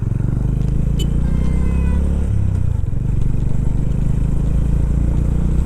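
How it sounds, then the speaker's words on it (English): A Honda Highness CB350 single-cylinder motorcycle thumps with a steady, deep exhaust note while riding, loud and close, with a slight shift in pitch partway through. "let's take a time to appreciate this exhaust note"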